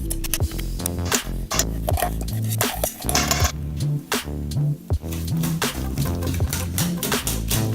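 Softened butter being mixed into cookie dough in a bowl, with loud close clattering and scraping of a utensil against the bowl over a steady background.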